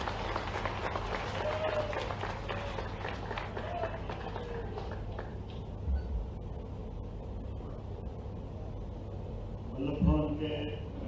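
An audience claps loudly to welcome Chief Minister Dr. Mohan Yadav at a felicitation ceremony in Bhopal. The dense applause fades over several seconds, with voices mixed in underneath.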